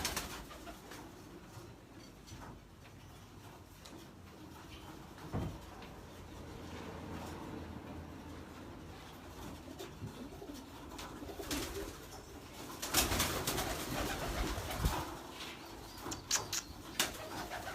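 A pigeon coos softly and intermittently amid rustling and handling noises, close by, with louder scuffling toward the end.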